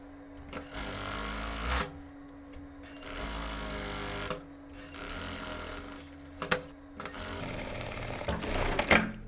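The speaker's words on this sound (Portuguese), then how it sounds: "E vou fazer o pesponto largo." Sewing machine running a wide topstitch on a shirt, several bursts of fast stitching separated by short pauses, close and clear, ending in quicker clicking handling noises.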